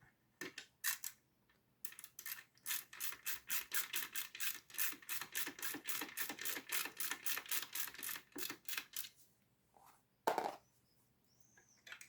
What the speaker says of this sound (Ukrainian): Наживляємо болти з обох сторін. Беремо біту і